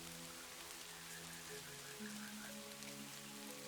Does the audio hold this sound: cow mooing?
no